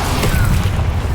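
Explosion spell going off in Hogwarts Legacy, a loud, dense booming blast that fills the whole moment with heavy low rumble and no clear voice over it.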